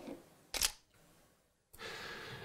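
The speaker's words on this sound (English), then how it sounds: "Try not to move the camera and press the shutter." A camera shutter is pressed once, giving a single sharp, loud mechanical click that fades quickly into near silence, followed later by a steady background hiss.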